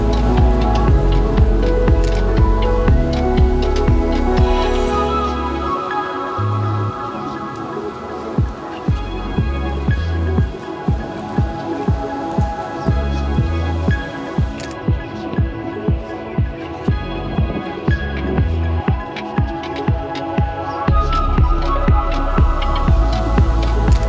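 Heavy night rain in Japan patters steadily on surfaces, with a dense wash broken by repeated close thumps and drips, likely from drops hitting a jacket or hood, at a fairly loud, even level.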